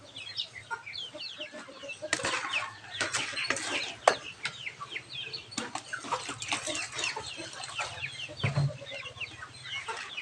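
Small chicks and chickens clucking in a farmyard pen, busy overlapping chirps and clucks in irregular bursts, some louder peaks and a brief wing flutter, near and lively.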